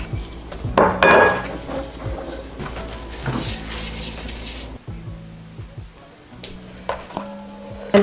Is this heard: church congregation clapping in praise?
no